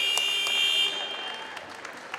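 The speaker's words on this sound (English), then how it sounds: "That's going to be the buzzer." A loud sustained electronic buzzer at a boys' high school wrestling match in a gym, ringing steadily for about a second before cutting off into crowd noise and scattered claps.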